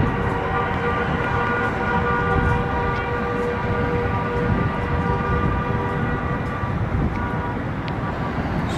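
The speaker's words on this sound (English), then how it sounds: "So that's all the honking you're hearing." Car horns blare in long, sustained, overlapping tones on a busy Paris street near the Arc de Triomphe and Champs-Élysées, loud and continuous over dense traffic noise.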